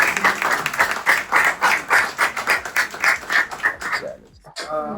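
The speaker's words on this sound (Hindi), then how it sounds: "बाजला के लिए यार तालियां बजाओ" Applause from colleagues for a sales team member at an office appraisal event, rhythmic clapping for about four seconds under chatter, then fading out.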